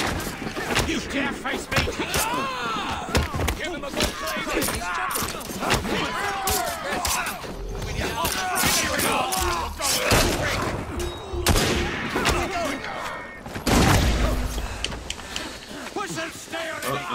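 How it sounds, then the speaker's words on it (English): Cannon salvo in the video game Assassin's Creed Syndicate, a dense run of loud blasts and thuds firing in quick succession, with shouted game dialogue and a big boom near the end. "Let's have a salvo!"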